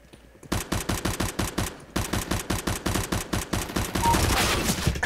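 Rapid automatic gunfire from a Counter-Strike: Global Offensive match, loud and close, with sustained bursts of evenly spaced shots that briefly pause and then resume, with no talking over it.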